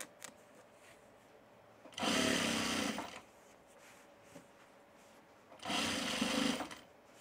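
Sewing machine stitching a tool belt in two loud bursts of about a second each, separated by quiet pauses with faint handling noise nearby.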